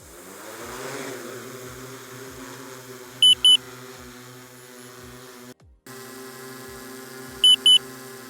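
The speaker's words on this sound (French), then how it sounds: "des notifications, des doubles bips sont émis en continu" Two pairs of short, sharp electronic double beeps from a parachute recovery system's automatic deployment unit, several seconds apart, over a steady motor hum with a brief cutout between them.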